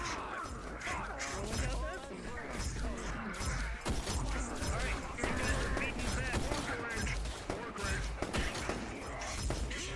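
Dense rapid gunfire and crashing impacts from a chaotic video game firefight in Neon Divide, loud and continuous, mixed with overlapping voices and shouting.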